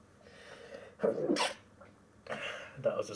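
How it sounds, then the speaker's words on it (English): A single loud sneeze bursts out mid-clip from someone watching an Adelaide v Collingwood AFL match, with a lighter follow-up burst near the end and some murmuring speech around it. "That was a sneeze."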